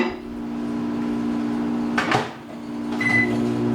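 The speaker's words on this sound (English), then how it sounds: "and then back in the microwave" A microwave oven hums steadily at close range, with a brief clunk partway through and no talking.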